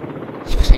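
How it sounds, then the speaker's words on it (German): A Bell 407 helicopter in the video game BeamNG Drive gives a brief, loud thumping rotor chop, with two heavy low beats near the end of a short burst. "Man sieht auch, wie der Helikopter fliegt."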